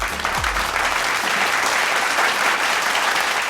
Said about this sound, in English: let's all give them a warm round of applause